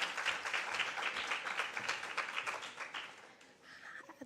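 An audience at a book club launch claps together in a warm, sustained burst of applause, fairly even throughout and dipping slightly near the end, with no speech over it.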